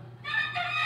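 A young rooster, raised from a chick after being given as a gift, crows once in a single short, strained call that rises and holds near the microphone, with no talk over it.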